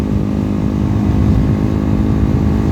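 A steady, loud engine drone from a motorcycle while riding, with a constant low rumble and no clear gear change in the short stretch heard.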